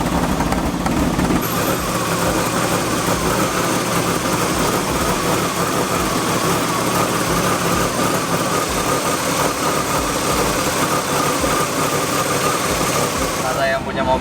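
A BMW E36's M52B25 engine idles roughly with an unstable idle, a steady, loud, close-up engine drone that runs unbroken for about fourteen seconds before dropping away at the very end.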